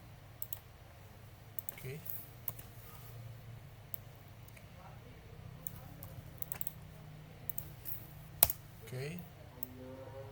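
Quiet clicking keystrokes on a computer keyboard while entering an IPv6 command on a router, scattered taps and a couple of sharper clicks under a low hum, with a person briefly speaking.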